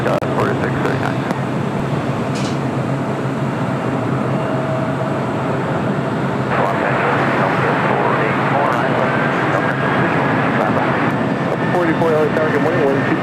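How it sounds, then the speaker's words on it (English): A China Southern Cargo Boeing 777 freighter arriving at LAX gives a loud, continuous jet engine roar that holds steady throughout, with people talking over it. "China Southern Cargo Flight 441. It's a 777 freighter."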